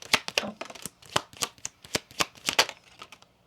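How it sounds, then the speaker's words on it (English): Close, crisp riffling and flicking of a deck of Kipper fortune-telling cards being shuffled, quick uneven slaps for a few seconds during a tarot-style reading. "Let's get you a couple Kipper cards."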